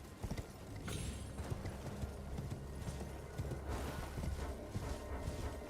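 Horse hooves clip-clop steadily at a trot in Elden Ring, a continuous rhythmic run of close, fairly loud footfalls with no talking over them.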